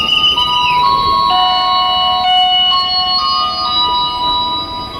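A bright electronic bell chimes twice in a repeating melodic pattern, steady and fairly loud, with a low background rumble at Pondok Ranji commuter rail station.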